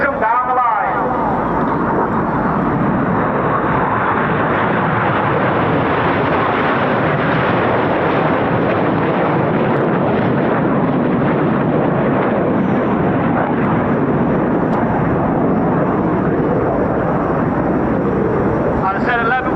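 Red Arrows jet formation flying past at an air show, a loud sustained roar of several jets that swells and holds across the whole pass, with a commentator talking over it.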